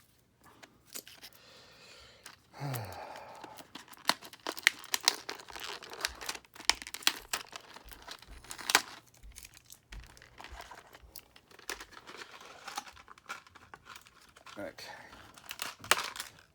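Tape and packaging are pulled and crinkled open on an unbranded white-and-pink fashion doll playset box, giving irregular tearing and crackling bursts close by, mixed with brief speech.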